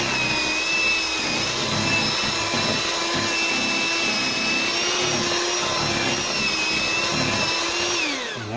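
Electric mixer beating eggs into cheesecake batter, a loud steady motor whine with a high tonal hum running throughout, briefly shifting pitch near the end as it winds down.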